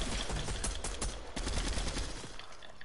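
Video game gunfire crackles in dense rapid bursts, loud and close, rattling continuously throughout with no talk.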